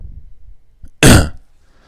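A single short, harsh cough bursts out close by after a quiet moment.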